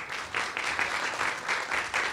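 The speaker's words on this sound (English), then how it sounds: "big round of applause" A crowd claps steadily for about two seconds, dense applause with no voices over it.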